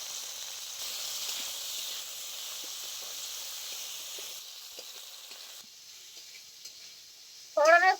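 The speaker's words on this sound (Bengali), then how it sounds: "ফোড়নের সঙ্গে ভেড়ি খুব ভালো করে কষিয়ে নিতে হবে" Okra sizzling in hot mustard oil with dried red chilies, salt and five-spice seeds: a steady, close frying hiss that gradually softens, ending with a brief louder clatter.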